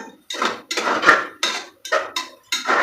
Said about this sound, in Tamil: இஞ்சி பூண்டு பேஸ்ட் சேர்த்தியாச்சு சூப்பராக தூக்குதுங்க